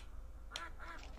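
A duck in the 1995 3DO game Killing Time gives two or three short, faint quacks over quiet room tone.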